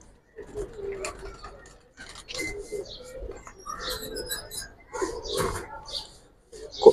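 Pigeons coo and flutter at a bustling pigeon market selling army, giribaz and coloured pigeons, their soft repeated calls mixed with nearby voices and the clatter of handling birds.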